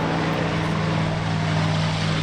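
P-51 Mustang fighter engine roaring during a tribute flight at Oshkosh 2019, a steady, loud, continuous propeller drone with a strong sustained low hum and no voices over it.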